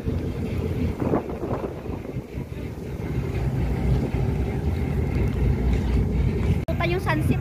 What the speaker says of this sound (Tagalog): Ayan, sobrang hangin.